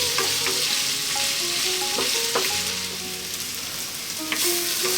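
Onions fry in a pan for a vegetable biryani. A constant crackling sizzle runs throughout, broken by several sharp clinks and scrapes of stirring against the pan. The sound is close and there are no voices.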